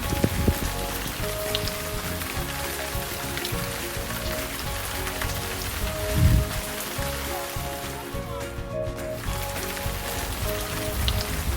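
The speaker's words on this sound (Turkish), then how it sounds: "Aa, çok güzel yağmur yağıyor arkadaşlar." Steady rain patters on a surface throughout, dense and close, with a faint hum underneath and occasional soft bumps.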